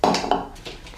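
Chocolate cake batter is mixed in a bowl, a utensil knocking and scraping against the sides in two or three quick, close clinks before fading, with no talk.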